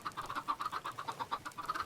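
Chickens in Minecraft cluck in a quick, steady run of short, repeated notes, fairly faint and with no speech over them.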